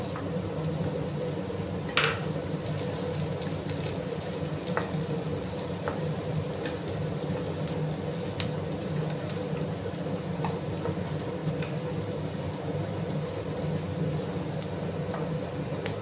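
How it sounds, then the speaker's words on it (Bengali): Chopped onions frying with ginger in a pan for a black chana fry, a soft steady crackling sizzle that runs evenly throughout, quiet and unbroken, with no voices. "সেই পেঁয়াজ কুচিগুলো দিয়ে দিলাম। একসাথে ভেজে নেব।"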